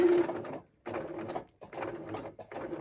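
A home sewing machine stitching slowly in three separate bursts, each a steady close mechanical whirr with brief silent pauses between, no voices.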